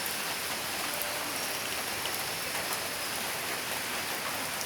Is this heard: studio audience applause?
no